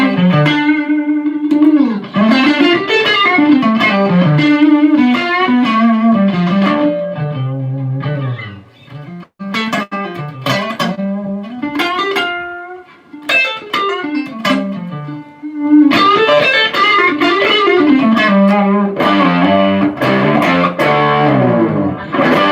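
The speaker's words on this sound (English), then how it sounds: "It's an amazing sounding little distortion pedal." Electric guitar played through a Distortron distortion pedal into a Fender Blues Junior amp, loud sustained overdriven chords and melodic runs with brief pauses, no talk.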